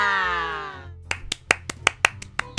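A single person's hand claps ring out, about eight sharp, close, separate slaps in an uneven rhythm, following a short burst of music-like tones.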